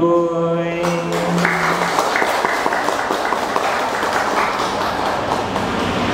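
The last sustained notes of a song at a Buddhist dharma talk give way to loud, dense audience applause that carries on steadily for several seconds.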